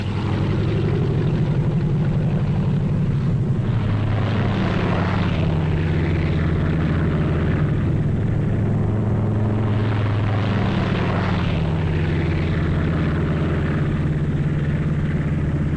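Propeller-driven aircraft of the D-Day airborne armada tow gliders loaded with jeeps, guns and troops over Normandy, a loud, steady, droning engine roar that fills the whole stretch without pause.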